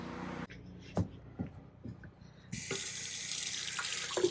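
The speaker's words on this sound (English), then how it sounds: "Turn the water on, you run it until it blows." Water rushes from a tap in a motor coach being worked on, a steady hiss starting partway through after a few knocks and clicks, close and moderately loud.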